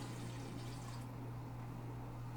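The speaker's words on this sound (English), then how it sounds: "we're going to add 2 cups of water" Two cups of water are poured into one cup of rice for cooking, a faint steady rush of liquid over a low constant hum that thins out partway through.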